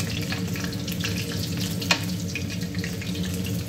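A pig tongue simmers in a pot of water on a kitchen stove, giving a steady close bubbling and hissing boil that stays even throughout, with one brief clink partway through and no talking.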